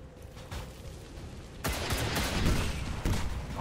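Micro missiles fire in a sci-fi strategy video game, a sudden loud burst of rapid explosive volleys cutting in after a quieter stretch and continuing with crackling hits.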